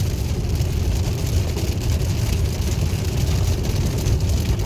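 Heavy rain pours steadily onto a car during a summer drive from Gothenburg toward Denmark in a thunderstorm, a loud, dense hiss mixed with low road rumble, continuous throughout.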